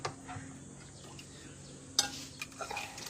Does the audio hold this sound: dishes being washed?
yes